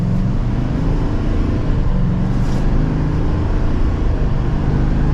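A 2024 Chevrolet Silverado 2500HD ZR2 pickup pulls away in second gear, its engine giving a steady, loud low rumble from inside the cab with no talking.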